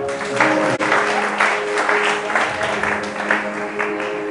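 Church congregation applauding a pastor's call to acclaim Jesus during a sermon, a steady, dense wash of clapping sustained throughout with a brief dip, sounding full and close in a large hall.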